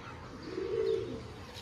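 A pair of Chiniya homer pigeons gives a single soft, low cooing call close by, brief and rounded, over quiet background hiss.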